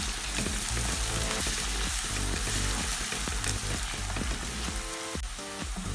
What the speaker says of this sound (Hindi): अब मैं इसमें अदरक लहसुन का पेस्ट डाल रही हूँ, और इनको सबको हम थोड़ा सा और ब्राउन कर लेंगे।